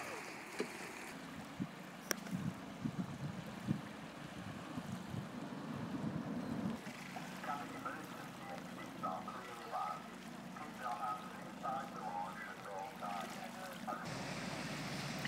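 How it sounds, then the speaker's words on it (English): A boat drawing closer across an open lake in the Lake District, with lapping waves and wind noise, a steady low rumble under faint voices. "that's the correct boat just approaching now"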